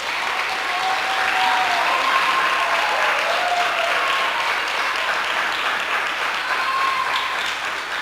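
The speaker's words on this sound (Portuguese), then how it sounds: "eu queria que vocês aplaudissem a vida do Gu" An audience at a gathering applauds warmly for Gu's life, a dense, steady wash of clapping that stays loud and even from start to finish with no talk over it.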